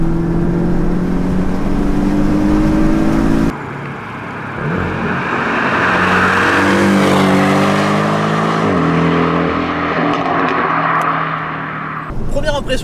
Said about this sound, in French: Première impression du coup après cette première accélération avec un moteur autre qu'un flat 6 dans une Porsche, un moteur central arrière.